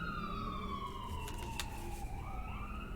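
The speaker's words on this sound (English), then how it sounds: "Bless that siren." An emergency vehicle siren wails at a distance, its tone sliding down in pitch and then rising again, heard faintly over low background rumble.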